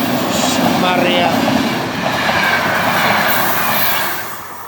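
A train rumbles loudly past at close range, with continuous roaring wheel noise and faint squeals throughout, fading slightly at the end, with a voice talking underneath.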